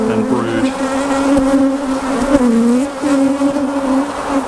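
Honey bees from a swarm-caught colony drone steadily around a hive frame heavy with stores and brood, a loud close continuous buzz with pitch that wavers as individual bees pass near.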